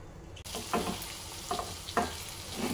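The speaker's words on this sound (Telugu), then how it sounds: "ఈ మెంతు ఆకు కూడా మంచిగా ఫ్రై అయిపోయి మంచి స్మెల్ వస్తుంది" Potato and fenugreek leaf curry frying in a pan, a steady close sizzle broken by a few scraping stirs of a spoon, with no one speaking.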